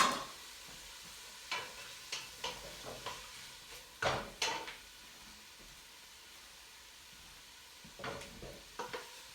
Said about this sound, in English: these are starting to saute